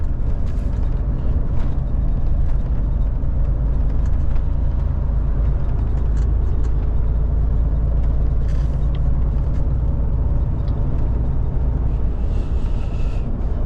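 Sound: road traffic, many cars

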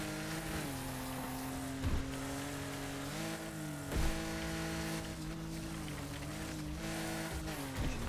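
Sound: car engine noise in Wreckfest video game

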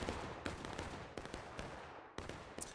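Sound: gunfire exchange in video game War of Rights

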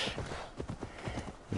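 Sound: horse hooves clip-clopping in a Viking video game

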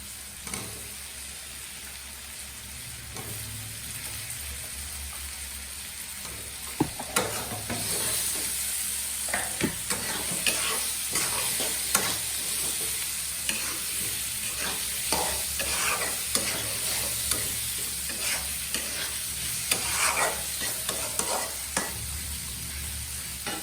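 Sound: sautéing potatoes with spice paste in a pan

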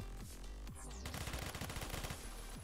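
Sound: gunfire in video game Phantom Forces

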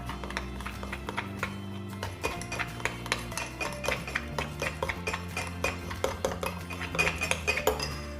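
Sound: stirring a Nesvita drink with a spoon

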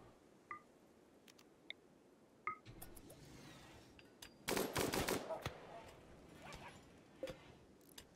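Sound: gunfire in the video game Rimworld

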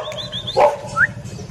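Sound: stray dog barking

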